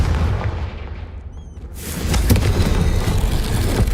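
A Confringo fire spell blast in Hogwarts Legacy: a sudden loud burst that swells into a roaring, rumbling fiery blast, following a quieter ambient stretch.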